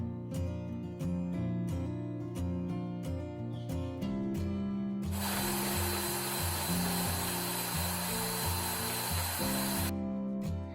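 An electric beater whirs steadily as it whips eggs, vanilla essence and powdered sugar for a blueberry cake. The whirring comes in partway through, lasts several seconds under background music, then stops.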